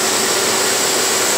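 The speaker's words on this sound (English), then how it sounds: "They blow warm air through them and blow out all the water inside the jets" Steady whooshing air blows continuously with a high whine on top, as bathtub jets blow warm air through to clear out the water inside.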